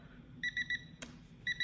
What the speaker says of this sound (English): let's see how this timer sounds